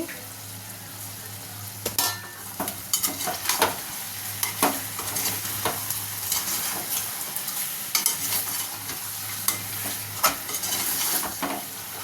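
Country chicken curry coated in masala cooks in hot oil while being stirred vigorously, with repeated metallic scrapes and knocks of the spoon against the pan over a continuous sizzle and a low intermittent hum.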